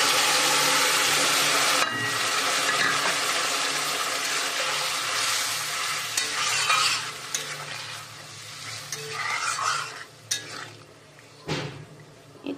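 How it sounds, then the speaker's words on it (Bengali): Hot water poured into a simmering curry in a pan, a loud gushing splash that hisses and sizzles against the hot oil before fading into softer bubbling and stirring. "এখানে আমি দিয়ে দিচ্ছি গরম জল"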